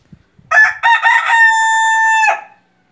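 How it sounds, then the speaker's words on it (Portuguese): A rooster crows once in an aviary, a single loud, close cock-a-doodle-doo that rises and then holds a long ringing note before cutting off. The call stands alone with near silence around it. "Esse aqui é o macho, né? Obviamente que está cantando."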